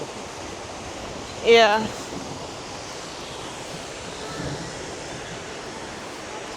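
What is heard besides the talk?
waterfall at Paddy's Falls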